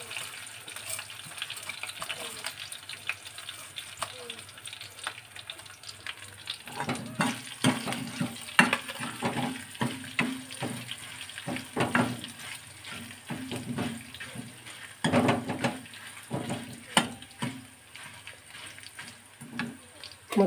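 Coriander, cumin, mustard seeds and pepper frying in a pan for guava chutney, a soft sizzle with stirring clatter and scraping that grows busier midway.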